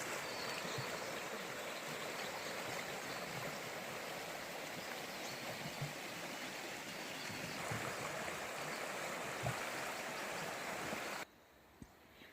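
A murky bush stream in the central North Island of New Zealand flows steadily, a continuous close rushing and gurgling wash of water that holds even throughout before cutting off abruptly near the end.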